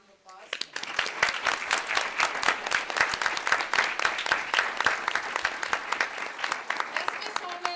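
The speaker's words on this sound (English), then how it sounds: "I think you deserve a round of applause." Applause for school staff rises at a city school board meeting: after a brief quiet start, a modest room of people claps in distinct, uneven bursts that continue steadily, with a voice speaking over part of it.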